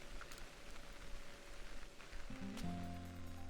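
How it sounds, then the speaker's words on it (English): Steady rain weather hisses in a Pokémon video game, a constant soft patter joined near the end by low game tones and music. "Rain, go away."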